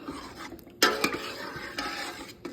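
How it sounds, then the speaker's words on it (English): Stirring chunks of tallow melting slowly in a pot over a fire rig for shave soap: a sharp scrape and clink of a utensil against the pot, then a few softer stirring knocks, close and alone. "So I'll go ahead and stir it up. See big chunks of tallow, they're the slowest to melt."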